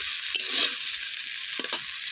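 Ripe Malabar spinach seeds, lightly salted, are stir-fried in a pan: a steady close sizzle with a few scraping strokes of the spatula, the loudest near the start and again toward the end, with no voices.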